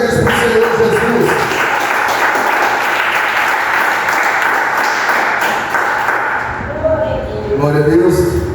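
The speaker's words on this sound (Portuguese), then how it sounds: "Podemos assentar com palmas bem alegres para o Senhor Jesus." A church congregation claps joyfully for Jesus, loud dense applause throughout that thins near the end as voices and music tones rise.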